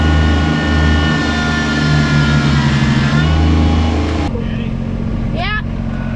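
A subcompact tractor engine drones loud and close while pulling weight in 4-wheel drive. It holds a steady low roar that drops in load near the end.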